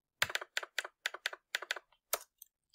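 Rapid keystrokes on a computer keyboard while entering numbers into an Excel spreadsheet, a close, crisp burst of about a dozen clicks in uneven rhythm, then a few slower taps, with no voice.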